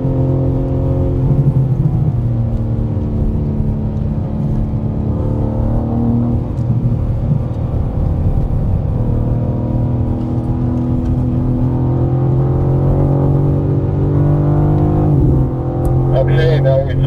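A 2025 BMW M4 CS accelerates hard around a race track, its engine droning loud and continuous from inside the cabin with rising and falling tones, while a voice talks over it.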